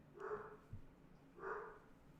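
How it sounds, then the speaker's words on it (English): Two faint barks from a dog somewhere off in the distance, about a second apart, against a quiet background. "I heard barking."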